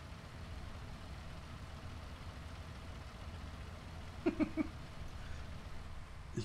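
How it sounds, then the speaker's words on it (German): A tractor engine in a farming video game idles with a low, continuous rumble at moderate distance, joined by a few quick clicks near the end. "Ich glaube, du hast den Trecker angelassen."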